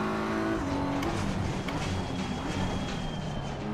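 Race cars in Assetto Corsa Competizione at Oulton, a Porsche among them, their engines droning loudly and steadily with rising and falling revs, a pack of cars running together throughout.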